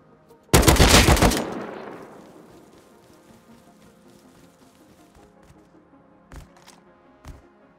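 A single loud burst of SAR rifle fire in a first-person shooter, a tight cluster of shots that rings out and decays slowly, followed by two faint distant thuds later.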